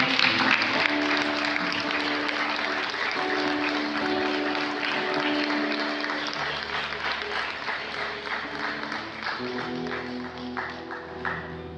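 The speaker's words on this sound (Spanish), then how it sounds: "¿Cuántos le dan un fuerte aplauso al Señor?" A church congregation gives a strong round of applause, continuous and crowded, with sustained musical tones from instruments running underneath throughout.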